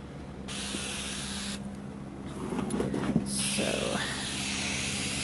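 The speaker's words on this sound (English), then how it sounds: "One of the awesome things about this is you get 360 degrees of continuous spray." Several hissing sprays from a fly repellent spray bottle, short bursts followed by a longer continuous spray, with a few faint rustles in between.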